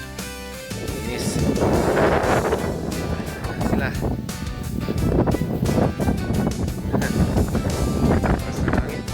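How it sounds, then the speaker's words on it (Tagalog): Strong gusts of wind roar steadily across a hillside farm in Ilocos Sur, buffeting the microphone loudly, while someone talks over it. "Pero ngayon lang lakas ng hangin."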